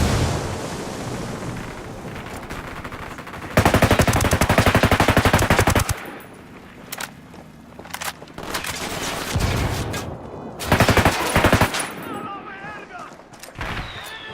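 Heavy automatic gunfire from a Ghost Recon Wildlands firefight, with long dense bursts of machine-gun fire and a few single shots, loud and close, broken by quieter gaps and some background noise.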